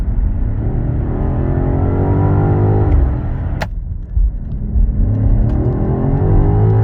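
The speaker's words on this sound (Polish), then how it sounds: "reakcja na gaz w najbardziej sportowym trybie jest niesamowita." A BMW XM 4.4 V8 hybrid revs hard in its sportiest mode, the engine note climbing loud and close, briefly dipping, then surging and building again with no voices.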